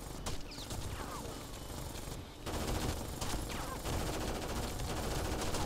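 Gunfire in the video game Rainbow Six Vegas 2 crackles in quick bursts of repeated shots, fairly faint and continuous over a short stretch with no clear talk.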